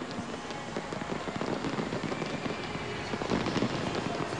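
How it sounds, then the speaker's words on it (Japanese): Dense crackling bursts and pops go off continuously at a distance, a busy, steady barrage of fireworks over a stadium in Qatar at the 2011 AFC Asian Cup final, with a noisy outdoor wash underneath. "この瞬間にスタジアムの周りで花火が上がりました"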